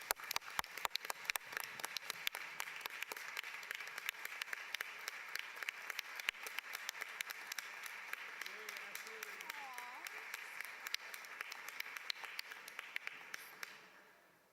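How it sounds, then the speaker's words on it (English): Audience applause at a meeting for Ashley, Student of the Month for October 2011: a steady, dense patter of many hands clapping for about fourteen seconds before fading out at the end, with a few voices murmuring over it. "So let's give a huge round of applause for Ashley."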